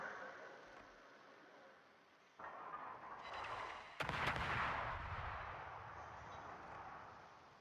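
Heavy naval guns fire in a warship battle game, a sudden loud blast near the four-second mark following a rising rumble, with the booming roar slowly decaying under continuous ambient battle noise.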